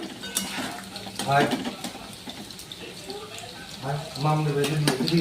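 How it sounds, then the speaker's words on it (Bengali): Pieces deep frying in plenty of hot oil until browned, a soft sizzling hiss that runs beneath a voice speaking throughout. "ডিপ তেলে ভাজতে হবে।"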